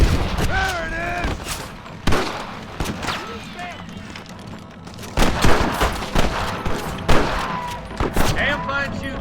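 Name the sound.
gunfire in video game Red Dead Redemption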